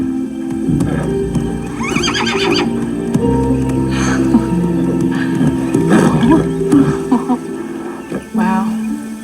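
Bandit, a horse, lets out several loud nearby neighs and whinnies among hoof clip-clops and stable noise, with a person talking softly in between.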